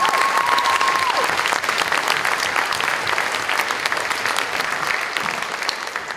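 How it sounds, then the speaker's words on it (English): Sustained applause from an audience at a school spring band concert fills the room, dense and steady clapping with faint crowd murmur and a brief tone at the start. "Give them another round of applause."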